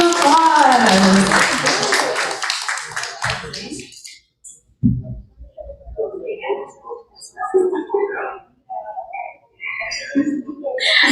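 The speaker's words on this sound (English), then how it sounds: "A big round of applause." A hall audience at a Vyasa Puja temple celebration breaks into a loud, dense round of clapping that fades out after about four seconds, after which a voice talks over the quiet room.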